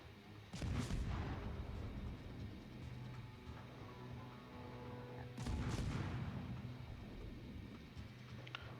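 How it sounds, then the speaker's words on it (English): Heavy naval guns of the battleship New York firing in a naval warfare video game, two deep booming salvos about five seconds apart over a continuous low rumble, with no voices. "this New York is just closer to me, so I'm just gonna start shooting."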